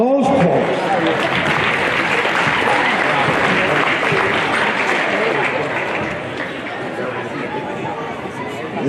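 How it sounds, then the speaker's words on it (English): A crowd at a youth basketball tournament's girls and boys championship games applauds the volunteers with steady, loud clapping and mixed chatter, easing slightly toward the end. "how about a round of applause for all those folks?"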